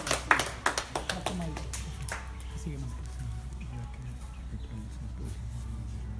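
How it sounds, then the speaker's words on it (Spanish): Applause rings out at a Lima Lama martial arts belt exam in Mexico, a brief burst of hand clapping that fades quickly into room murmur while people talk. "Compañeros, demos un fuerte aplauso"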